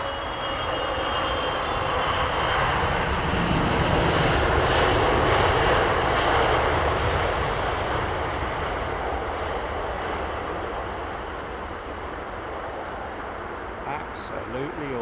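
A large aircraft at London Heathrow in fog passes with a loud, sustained jet engine roar that swells and slowly fades, with voices talking over it.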